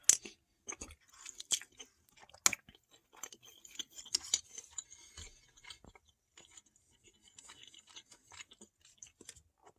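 Close, quiet chewing and crunching of homemade chili, with irregular bites and clicks of mouth sounds spread through the whole stretch and no talking.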